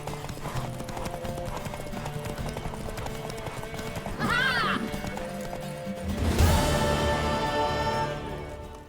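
Rhythmic hoofbeats of a horse in The Witcher 3: Wild Hunt clatter steadily at a gallop, with a whinny midway and music playing underneath.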